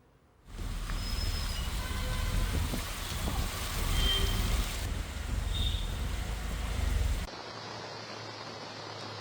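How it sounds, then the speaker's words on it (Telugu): Heavy rain falls over Delhi, a dense, steady broadband roar of rainfall that starts abruptly and holds loud for several seconds before cutting to a quieter, softer hiss. "ఢిల్లీ ఎన్సీఆర్ పరిధిలో రాత్రి నుంచి ఆగకుండా వర్షం కురుస్తోంది."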